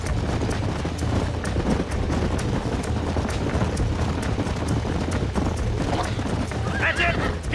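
Horses neigh and hooves clip-clop in Red Dead Redemption amid steady noisy ambience and motion, with people talking over it.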